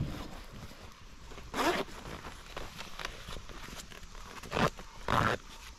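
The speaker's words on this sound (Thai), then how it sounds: "มารูดซิปให้หน่อย" Zipper on a protective beekeeping suit, pulled in short rasping strokes: one near 1.6 seconds and two more near the end, close and fairly loud over quiet outdoor background.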